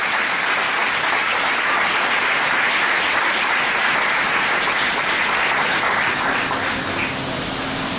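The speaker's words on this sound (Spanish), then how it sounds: "Si va a aplaudir, apláudele fuerte para el Señor." A congregation in a church applauds loudly and steadily, a dense sustained wash of clapping from many hands that carries on without a break, with a faint tonal hum creeping in near the end.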